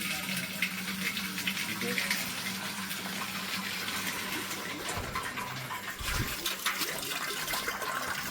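A coin-operated water vending machine pours water into a large container, making a steady, faint gushing flow with a brief thump partway through.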